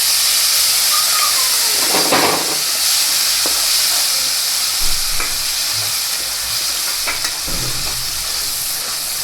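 Garlic paste hits hot oil with cumin and asafoetida, giving a loud, continuous sizzle and hiss up close, with a few scraping stirs of a spoon in the pan.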